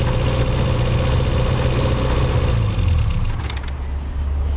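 A mini's engine fed by Weber carburetors runs steadily nearby with a rough, throaty, pulsing idle that drops slightly in pitch toward the end.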